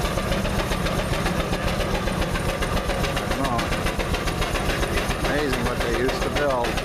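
An old steam engine idles at a tractor show with a fast, steady mechanical chugging and knocking. It stays loud and close throughout, and a voice speaks briefly over it.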